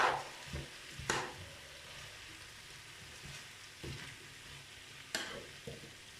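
Rice gets stirred into vegetables in a small frying pan, a soft steady sizzle underneath with a few sharp scrapes and taps of the utensil against the pan, quiet and close, no voices.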